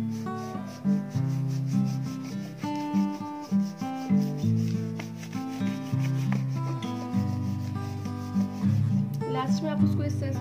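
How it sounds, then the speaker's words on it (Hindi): A brush scrubs back and forth over a household electrical switch board, a soft, close rubbing in uneven strokes that continues throughout over a faint background of music. "अब आप इस तरह से पूरे हैं इसको अच्छे से एक बार ब्रश से रगड़ देंगे।"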